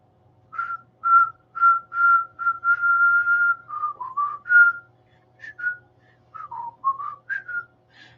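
A person whistles a light, meandering tune alone, clear notes in short phrases with brief pauses between them.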